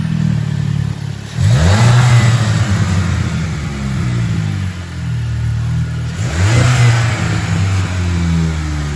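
Stock-intake 2020 Volkswagen Jetta GLI engine revs up twice from idle, each loud rise peaking and falling back to a steady close rumble, with no talking.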